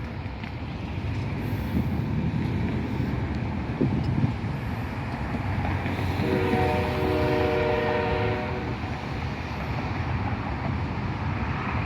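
A CSX intermodal freight train rumbles past in a neighborhood, its horn sounding in a sustained blast of stacked tones partway through, over continuous wheel and engine noise.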